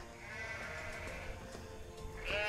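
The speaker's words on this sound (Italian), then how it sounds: "intanto qua trovo delle pecore" Sheep bleat along a mountain hiking trail, a few moderately close calls over steady outdoor ambience, with one louder bleat at the end.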